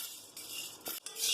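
Chana dal dry-roasts in a pan, stirred with a brief series of close scrapes, light rattles and a soft clink of a utensil against the metal.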